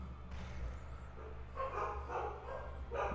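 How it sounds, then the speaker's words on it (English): Several dogs barking indoors in bursts of yaps and barks, moderately close, with no talk over them. "Uh-oh, they're still barking."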